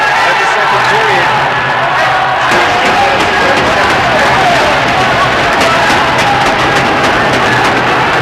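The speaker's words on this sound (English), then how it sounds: "Slovaks cheering fanatically for the team." Slovak fans cheering loudly at an under-18 world junior ball hockey championship game against Canada in an auditorium, a dense, continuous roar of crowd voices and chanting, very loud and unbroken throughout.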